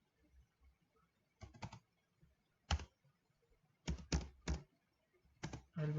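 Keys on a computer keyboard are tapped in short irregular bursts while a file name is typed, close and clear against a quiet room, with pauses between clusters of keystrokes.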